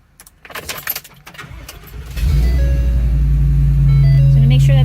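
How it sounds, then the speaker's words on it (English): A 2021 Forest River Sunseeker 3010DS motorhome engine cranks and catches after a couple of seconds of rustling and clicks, then settles into a loud, steady idle with a low rumble that holds to the end. "So to do that, we're gonna run the engine."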